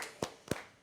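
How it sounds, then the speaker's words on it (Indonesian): Two sharp, separate hand claps ring out close by with a brief pause between them, part of the rhythmic Divine Mercy clap at a novena gathering. "Tepuk kerahiman ilahi"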